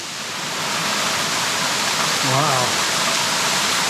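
A waterfall on a hillside above a rough track in the Watagans bushland, a steady broad rushing roar heard from nearby, with a person briefly exclaiming over it.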